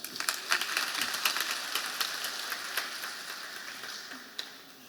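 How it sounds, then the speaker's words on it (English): Audience applause at a graduation ceremony for an online academy, a fairly faint, steady patter of many hands clapping that thins out toward the end, with no voices over it. "Let's give her a round of applause."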